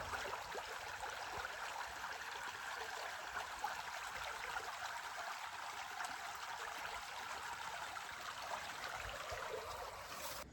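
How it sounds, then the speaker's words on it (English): Small river rapids keep up a steady, even rush of flowing water that stays close and unbroken throughout, with no voices over it. "Look at that, mini rapids."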